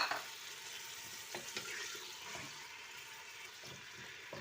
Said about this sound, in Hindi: सबसे पहले हम चिकन को फ्राई कर लेंगे।